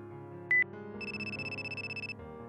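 A mobile phone ringtone sounds nearby, a short bright electronic tone followed by a rapid warbling ring pattern of about a second, fairly quiet over a low background hum.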